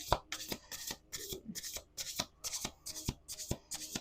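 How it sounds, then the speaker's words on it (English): Oracle cards are shuffled in a steady rhythm of quick riffling bursts, about ten in a row, close and crisp with no talking. "Last shuffle."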